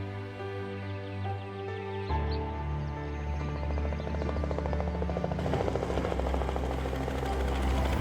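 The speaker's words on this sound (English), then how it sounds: "I'm about to go on a helicopter over the Victoria Falls with the Zambezi Helicopter Company." A Zambezi Helicopter Company helicopter flies over Victoria Falls, its rotor thumping steadily and engine droning loudly and continuously from close by, swelling slightly as it powers up.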